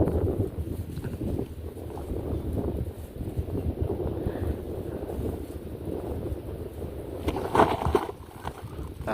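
Ground gas bursts from boiling earth in an open field in Grobogan, a low rumbling roar mixed with heavy wind buffeting the microphone, swelling louder near the end.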